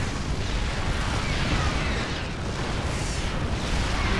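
Siege tank fire in a StarCraft mech-versus-Zerg match, a steady roar of booming blasts and explosions with no clear gaps, loud and dense throughout.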